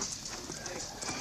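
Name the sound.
horse hooves clip-clopping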